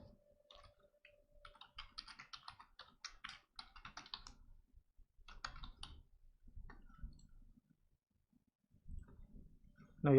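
Quick mouse and keyboard clicks on a computer while an AWS account is being set up, a string of close, crisp taps and clicks coming in scattered bursts with short pauses, no voices.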